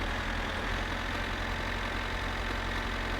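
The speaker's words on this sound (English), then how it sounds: "God, his tractor's loud, I just realised." In My Summer Car, a tractor motor sits idling, a loud, unbroken low-pitched chug that holds level throughout with no talking over it.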